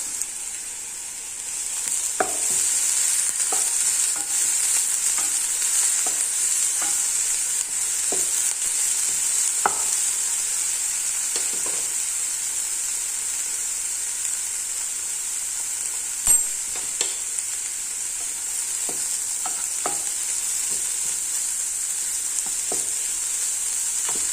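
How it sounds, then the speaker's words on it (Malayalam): Carrots and drumstick leaves with a little salt sauté in a hot pan, giving a continuous bright sizzle with scattered soft scrapes and taps of a stirring spoon, steady and close throughout. "ക്യാരറ്റും മുരിങ്ങയിലയും ചേർത്തൊന്ന് ജസ്റ്റ് ഒന്ന് വഴറ്റി കൊടുക്കാം അല്പം ഉപ്പും കൂടിയും ചേർത്തിട്ട് ഒന്ന് വഴറ്റിയെടുക്കാം"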